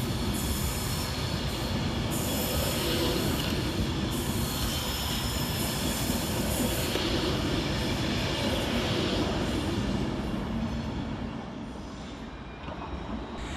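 An Avanti West Coast train pulls out of London Euston on the service to Manchester Piccadilly, a sustained rumbling roll of wheels and carriages with intermittent squeals and clatter, loud and close throughout before easing slightly near the end.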